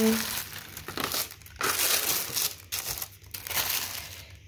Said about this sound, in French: on dirait qu'on est en train de déballer un colis de ouf là